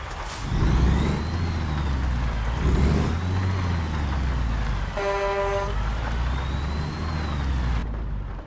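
A Peterbilt 567 with a CAT engine in American Truck Simulator runs through a throttle test. A deep, steady diesel drone swells in a few rev surges, and a brief tonal toot sounds midway.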